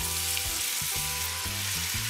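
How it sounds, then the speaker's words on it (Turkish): Onions frying in hot oil, a loud, continuous close sizzle with a low humming tone that shifts pitch underneath, no speech. "Soğanlarımı ekliyorum."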